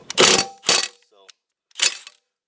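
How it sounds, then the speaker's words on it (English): Blade coming off a Troy-Bilt lawn mower during a tune-up, three loud close ratchet-wrench bursts with a brief metallic clink between them. "I'm going to take the blade off so I can have sharpening and balancing that"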